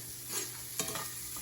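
Shrimp with lemon juice get stirred in a sizzling pan, a continuous frying hiss with a few scraping and clinking stir strokes, close and moderately loud, no talking.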